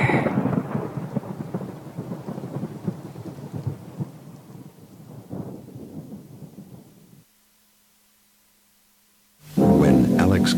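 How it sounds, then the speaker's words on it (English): Heavy rumbling thunder with rain rolls loudly for several seconds, cuts to near silence, then a loud crash returns at the end. "Because after you get struck by lightning, there's thunder."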